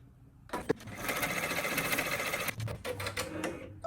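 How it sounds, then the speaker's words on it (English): Embroidery machine stitching a placement stitch on cardstock, starting up with a rapid, steady mechanical needle rhythm and a loud close hum, with a few clicks and slight changes in pace toward the end. "We're going to hit start and stitch the placement stitch."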